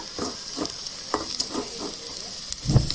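Curry leaves frying in hot oil give a steady close sizzle, broken by several soft stirring scrapes and a louder knock near the end.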